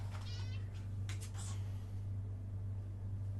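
A pet cat meows a few times close by during the first second and a half, with steady low hum in the background and no talk.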